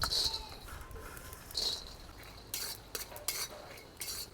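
Peanuts being dry-roasted in a pan rattle and scrape quietly as they are stirred, with a soft faint crackle and a few louder bursts of scraping near the end.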